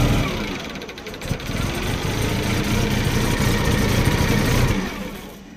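A car engine with a MAP sensor fault idles roughly, its loud, close mechanical drone surging up and down unevenly before dropping off near the end, with no talk over it.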